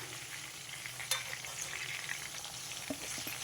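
Pieces of ivy gourd sizzle and fry steadily in a pan, with a continuous close crackle and a few sharper pops and stirring clinks, no voices.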